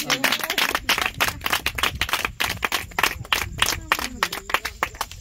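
Congregation clapping in a church service at a cell consecration in Dekouenou, Benin: dense, steady handclaps from many people throughout, with voices mixed in underneath.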